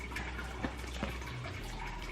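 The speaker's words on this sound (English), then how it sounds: "I just fill this with water every morning" Water runs steadily into a drinking bottle during a morning refill, a soft continuous gush with faint splashes and small clicks, fairly close and alone without speech.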